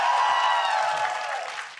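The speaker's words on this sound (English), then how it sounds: "they'll cheer for you now" A crowd cheering and applauding at a 2019 LCS Summer Split League of Legends esports match between CLG and TSM, a loud, dense roar of voices and clapping that fades slightly toward the end.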